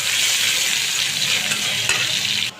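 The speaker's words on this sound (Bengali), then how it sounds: "এখন আমি পেঁয়াজ কুচিটা দিয়ে দিব" Chopped onions hit hot oil in a pan, giving a loud, even, hissing sizzle that holds steady close by, with a couple of faint stir scrapes, before stopping abruptly.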